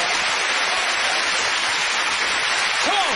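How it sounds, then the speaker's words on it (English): Audience applause at a darts trickshot exhibition, a continuous dense wash of clapping that stays even and fairly loud from start to finish, with no voices. "Good round of applause"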